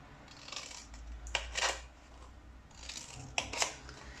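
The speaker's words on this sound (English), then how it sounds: "for the bits in the middle, I literally just cut a tiny triangle out" Scissors snip tiny triangles out of paper for a craft drawer project, a few crisp close cuts in two clusters with quiet pauses between.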